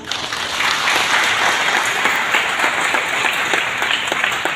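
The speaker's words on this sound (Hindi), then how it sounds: "सबसे पहले आप लोग अपने लिए ताली बजाइए" An audience at a rally applauds for themselves with loud, dense, continuous clapping that sounds close and stays steady for several seconds.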